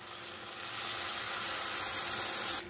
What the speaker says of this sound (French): Là, je vais ajouter de l'eau bouillante.